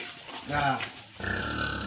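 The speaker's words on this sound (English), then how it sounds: "The boa is the male pig." Male pig (boar) on a farm: two short, close grunts with a brief pause between them, moderately loud, with no talk over them.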